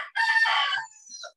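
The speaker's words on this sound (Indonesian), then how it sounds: "Di rumah saya banyak ayam ini" A rooster crows loudly and close by at a home with many neighbourhood chickens, a single strong cock-a-doodle-doo followed by a short clucking trail.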